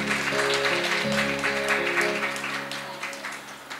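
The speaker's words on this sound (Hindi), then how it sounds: "जोरदार तालियों से" Applause at a foundation-stone ceremony in Vasundhara, Ghaziabad, with crowd clapping running for several seconds alongside sustained harmonium-like tones, gradually fading slightly toward the end.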